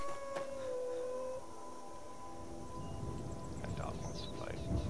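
A dog howls in the video game Skyrim, a drawn-out wavering tone early on, then fainter cries over a low rumbling background.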